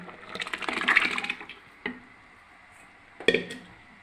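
Tamarind water poured into a pot of sambar and splashing for about a second, followed by a few brief knocks and clinks of the pot in an otherwise quiet kitchen.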